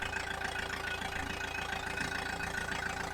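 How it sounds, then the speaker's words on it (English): Diesel engine of a Manitou telehandler idling steadily nearby, a continuous low rumble with a faint knocking pulse and a steady whine, with no speech. "So now we've got the engine running."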